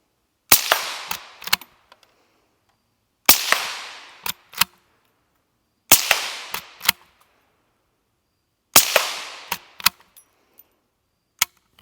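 A Volquartsen Summit rifle chambered in 17 HMR fires four sharp, loud shots at a 4-inch steel plate at 100 yards, each followed by a ringing echo and a few faint clicks between shots.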